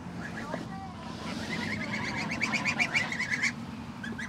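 Chickens on a farm clucking and chirping close by, a run of repeated calls in the middle with softer peeps around them over a low background, and a person speaking briefly.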